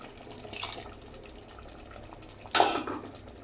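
Water is poured into chicken fry cooking in a pressure cooker, a short, quiet splash near the end after faint background sounds.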